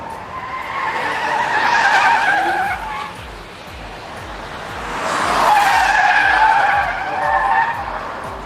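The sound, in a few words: Rolls-Royce Cullinan driven hard on a race track, tires squealing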